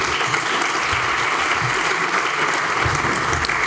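Dense, steady applause from a crowd, loud and continuous for several seconds with no break.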